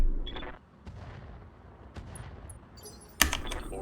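Mech weapons fire in Roguetech, a BattleTech game: a few scattered booming shots and thuds spread over several seconds, ending in one sharp, loud crack near the close.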